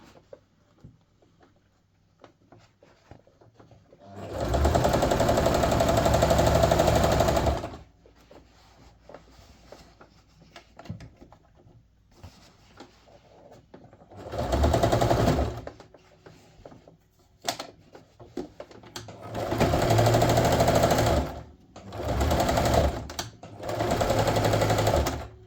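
A sewing machine stitches box corners in several loud close bursts, the longest about three seconds, separated by quiet handling noises.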